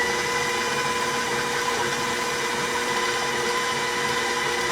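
An electric mixer whirs steadily at high speed while creaming butter and brown sugar for Dutch peanut cookies, a dense, continuous motor drone with no pauses and no voices.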